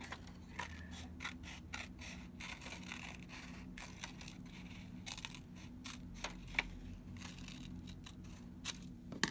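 Scissors cutting paper shapes for a notan collage, a series of close, faint snips and scraping paper rustles repeating irregularly, with no talk.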